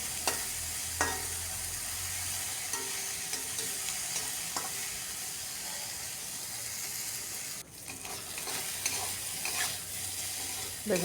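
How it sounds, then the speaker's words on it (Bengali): Thin eggplant pieces fry in hot oil with a steady close sizzle, broken by repeated scraping stirs and brief clinks of the spatula against the pan, with no voices. "বারবার নাড়িয়ে ভেজে নিলাম।"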